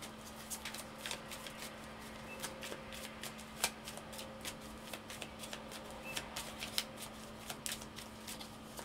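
Tarot love cards being shuffled, with soft repeated papery flicks and riffles over a faint steady hum, quiet and close, no talking.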